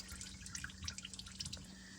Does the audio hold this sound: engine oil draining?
yes